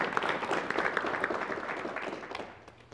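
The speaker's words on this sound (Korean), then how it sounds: "여러분 박수로 환영해 주시면 대단히 고맙겠습니다." A studio audience applauds to welcome Bishop Kim Nam-su on a 1987 KBS television talk program, a brief, steady wash of clapping that fades slightly toward the end.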